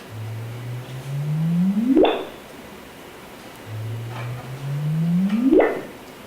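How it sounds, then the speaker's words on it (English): Two sonified gravitational-wave chirps from merging compact neutron stars play one after the other. Each is a low hum that climbs slowly, then whoops quickly upward to a high pitch and cuts off, with no talking. "Those were compact neutron stars, so they got to higher frequency."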